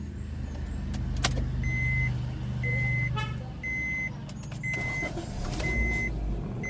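An automatic car starts up at close range, a low engine hum settling in under a series of regular electronic beeps and a few sharp clicks, with no talking.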